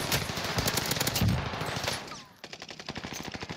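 Rapid automatic gunfire in the shooter game Warzone, dense bursts of shots for about two seconds, then a brief lull and a steadier run of spaced shots, close and loud.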